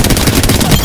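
Rapid automatic gunfire from a weapon in the video game Apex Legends, a loud dense burst of shots lasting under a second with no pause.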